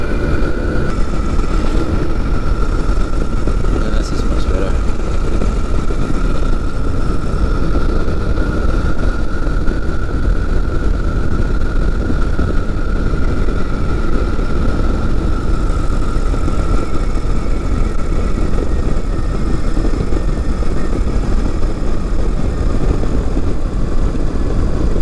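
Small aircraft engine droning steadily and loudly throughout a low approach and landing, with a constant tone and no pauses.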